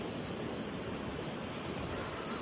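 Steady, broadband wash of ocean surf on the Assateague Island beach, a continuous hiss-like roar with no distinct breaks between waves, moderately loud and unbroken throughout, with no voices.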